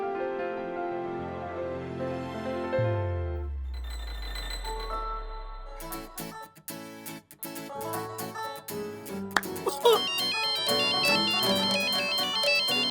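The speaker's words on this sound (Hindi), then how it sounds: "मैं राज को फोन करके बुला लेती हूँ।" A melodic phone ringtone plays through during a call: a sequence of musical tones with a descending synth sweep, followed by busier rhythmic electronic music that continues at steady loudness, with no speech.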